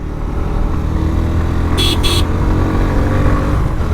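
Steady loud engine drone of a moving motorcycle with heavy road and wind rumble throughout, no clear revving or change in pitch.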